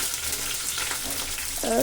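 Steady, loud sizzling of a South Indian tempering with curry leaves frying golden in hot oil, continuous throughout with a faint voice near the end.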